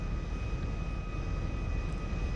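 Airplane in GTA 5 rolling for takeoff down a runway, a steady dense engine roar with a thin high whine held throughout, loud and close with no talk.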